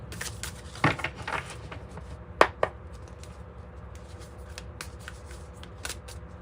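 A Fortuna tarot deck is shuffled by hand close up: a couple of quick riffling bursts and sharp card snaps early on, then quieter handling and light taps, with no one talking.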